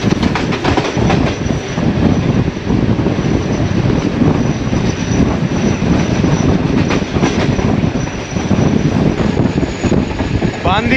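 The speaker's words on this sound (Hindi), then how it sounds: "ट्रेन स्लो चल रही है इस सेक्शन में" A passenger train in Sindh between Landhi Junction and Padidan Junction rolls slowly under a 50 speed caution, a loud, steady rumble from on board with irregular wheel clicks and rattles.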